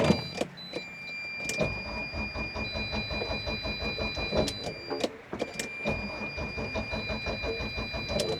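A boat engine that has just stopped after a man-overboard emergency stop bracelet cut it is cranked again and again without catching. The starter churns up close in a steady, uneven rhythm for several seconds, with a few sharp clicks.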